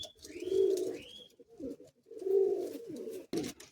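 Madrasi high flying pigeons cooing close by in two distinct rounds of soft throaty coos, with a faint higher whistle near the start and brief handling noise between.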